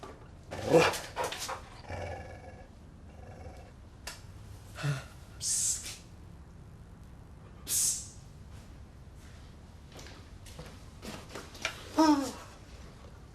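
Dog barking and growling in a domestic drama scene, several short gruff barks and snarls spread through a quiet background, fairly close.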